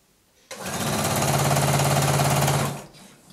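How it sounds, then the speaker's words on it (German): A sewing machine runs a straight stitch along the shoulder seams of a dress in elastic fabric, a single fast steady whirring burst of about two seconds, close and loud, starting and stopping abruptly. "die Schulternähte kann ich auf den geraden Stich nähen"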